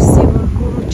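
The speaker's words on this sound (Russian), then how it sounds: "Я не знаю, как слышно будет, потому что ветер, довольно сильный ветер." Strong wind buffeting the microphone outdoors while walking through the Bavarian town of Garmisch-Partenkirchen, a loud, continuous low rumble that covers the whole moment.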